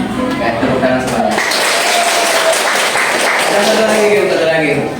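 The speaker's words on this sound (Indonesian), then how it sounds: "Tepuk tangan semuanya." A classroom of students claps together on the teacher's instruction during a guidance lesson, sustained dense applause filling the whole stretch with some voices mixed in.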